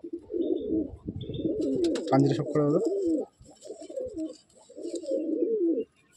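Madrasi Andhra pigeons in a loft coo in low, rolling, repeated calls up close, with someone speaking briefly over them partway through.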